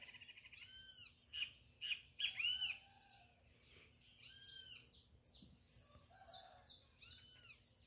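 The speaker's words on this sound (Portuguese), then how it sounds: "Os pássaros todos cantando." Several songbirds chirp and call in the early morning just after six, bright varied tweets in clustered bursts, some near and some farther off, over a quiet background.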